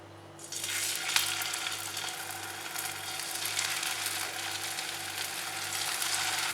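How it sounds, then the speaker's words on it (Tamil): Potato and gram flour snack frying in a pan of hot oil, a steady close sizzle and crackle that starts after a brief quiet moment and continues evenly throughout, with a faint low hum underneath. "ப்ரௌன் ஆகிற வரைக்கும் நம்ம ஃப்ரை பண்ணலாம்"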